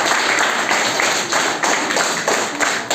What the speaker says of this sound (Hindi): मेरे लिए तालियां बजाएं